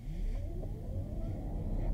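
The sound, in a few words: Peugeot e-2008 electric car accelerating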